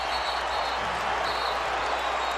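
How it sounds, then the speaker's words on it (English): Basketball arena crowd at a Lakers vs Raptors game roars in a dense, continuous wall of cheering and applause throughout, loud and unbroken. "Listen to this crowd."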